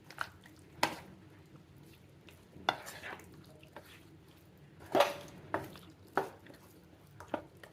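Chicken fried with salt in a pan for a village-style roast, stirred at intervals: soft scraping strokes recur every second or two over a faint low sizzle, close and fairly quiet.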